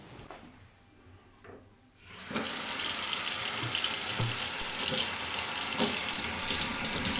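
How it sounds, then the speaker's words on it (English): Running tap water pours steadily into a sink while hands are washed and rubbed underneath, starting after a quiet couple of seconds and then continuing loud and close. "And now, here is my hand washing sequence."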